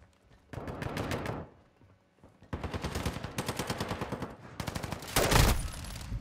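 Fennec 45 submachine gun in Call of Duty: Modern Warfare 2: rapid full-auto bursts of crisp gunfire, three strings with short gaps, the last louder and closer with a sharp impact.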